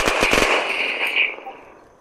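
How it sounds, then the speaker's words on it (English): Gunfire in the video game Unturned during player-versus-player combat: a loud, rapid burst of shots followed by a fading echoing tail. "They're still just freaking firing at us!"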